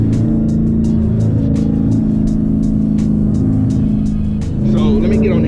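A manual-transmission car accelerates onto an interstate, its engine droning loud and steady from inside the cabin with a continuous low rumble and road noise throughout.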